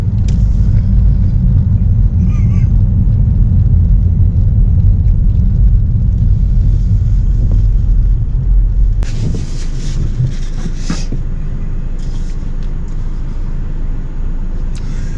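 Road traffic passing close by on a street, a steady heavy rumble with gusting wind noise that eases after a few seconds into a lighter engine drone and hiss.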